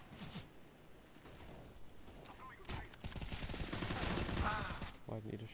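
Gunfire in the shooter game CS:GO, quiet bursts of rapid shots that swell into a sustained volley near the end, with game mechanism clicks and faint speech mixed in.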